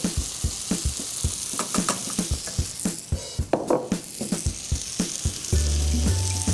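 Chopped tomato sizzles with braised eggplant and vinegar in a pan for caponata, giving a steady close crackle with occasional stirring clatter and a low hum joining near the end.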